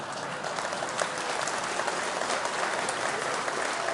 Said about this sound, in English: I think you're always going to get a clap for that.